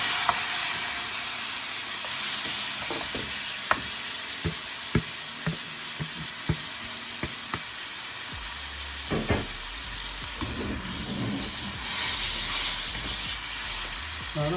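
Tilapia pieces dropped into hot tempering oil for a spicy Sri Lankan village-style fish curry, a loud continuous sizzle and hiss with scattered sharp spits and crackles, swelling again toward the end, no voices.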